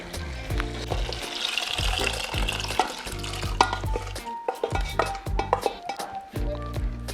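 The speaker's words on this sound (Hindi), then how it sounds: "अब ये टाइम है जब मैं अपने उबले हुए छोले इसमें डाल दूँगी" Close-up stirring and scraping of boiled chickpeas into a thick frying masala gravy in a pan, rhythmic spoon strokes over a low sizzle, no one speaking.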